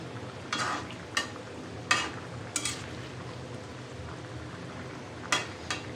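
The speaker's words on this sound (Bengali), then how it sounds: "এই যে এখন মাছগুলো তেলে দিতে আসছি" Fish pieces fry in hot oil in a pan, with a continuous close sizzle and bubbling and several sharp bursts of spattering as the fish goes in. No one speaks.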